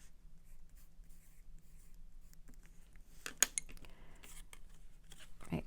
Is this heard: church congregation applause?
no